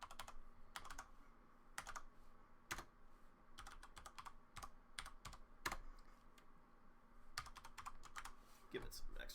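Computer keyboard keys clatter in quiet, irregular bursts of typing, with pauses between short runs of keystrokes, close and faint.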